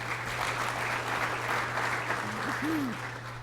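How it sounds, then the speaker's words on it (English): A rural-talks audience applauds steadily, a full even clapping that fades slightly toward the end, with a low constant hum beneath and a brief voice sliding in near the close. "Another round of applause, please, for Dr."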